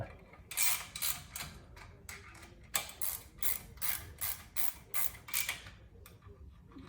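A ratchet wrench retightens bolts with steady rounds of close, rapid clicking strokes, each burst a ratcheting rasp, repeating rhythmically for several seconds over low background noise with no talking.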